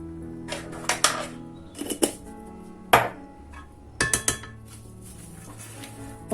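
Potatoes being tossed with oil and a spice blend in a dish, giving scattered clinks and scraping knocks of a utensil against the dish in irregular bursts, close by with no talk.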